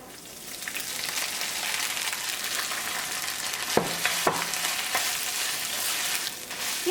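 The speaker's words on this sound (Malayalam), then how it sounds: "ഈ തേങ്ങ നല്ലൊരു ഗോൾഡൻ കളറിൽ നമുക്ക് വറുത്തെടുക്കാം." Grated coconut roasting in a pan over a medium flame, a steady close-up sizzle and crackle with occasional sharp scraping stirs, no talking.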